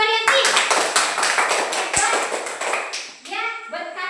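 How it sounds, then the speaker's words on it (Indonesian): Children in a classroom clap together for a classmate, quick fairly steady claps for about three seconds, close and lively, then a voice speaks as the clapping stops. "Iya, tepuk tangan untuk Ariyanti."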